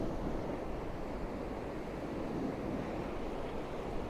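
Sea waves wash onto the shore under a low-lying cloud, a steady, broad, soft roar of surf with faint wind rumble and no talking.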